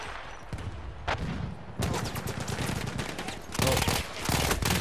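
Heavy gunfire in a Battlefield 1 campaign battle, dense rapid shots and overlapping bursts from several weapons, loud and continuous with short gaps, no talk.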